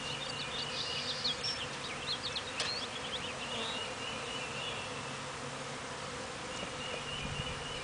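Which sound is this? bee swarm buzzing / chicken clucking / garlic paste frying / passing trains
bee swarm buzzing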